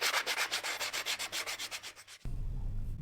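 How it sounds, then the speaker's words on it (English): Rusty bolts and a carbon-crusted handle from an old German fuel iron are sanded by hand in quick, steady back-and-forth strokes, about a dozen close scratchy passes, then a duller, lower rubbing takes over. "sand the bolts to remove the rust and the burnt carbon layers on the handle"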